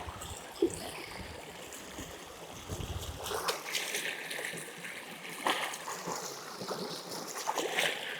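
White sweet potatoes are washed by hand in water, with quiet sloshing and soft splashes and a few louder splashes, close but faint.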